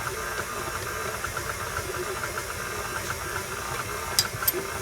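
An electric mixer beats cake batter with a steady, moderate motor whir and a faint rhythmic churning, ending in a couple of brief clicks, with no talking.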